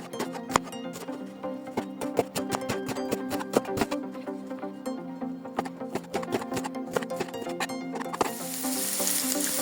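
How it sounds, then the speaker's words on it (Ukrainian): Steady crackling sizzle of onion frying in a pan, with scattered pops and clicks of stirring, close by and fairly quiet. "Закинули цибульку на сковорідку. Зараз буквально 5 хвилинок її обсмажуємо."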